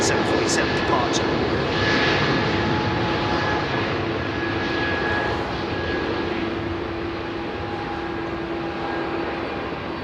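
A Boeing 747 departs London Heathrow Airport, its engines producing a broad, sustained roar with a steady tonal whine that stays loud through the whole stretch, fading only slightly toward the end, and no voices over it.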